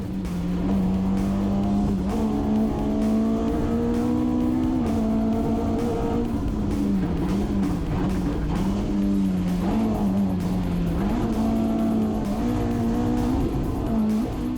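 Onboard with a stage-rally car on a Pitstop Stages rally, the engine roars loudly and steadily, revs rising and falling through gear changes, with tyre and road noise beneath and no talk.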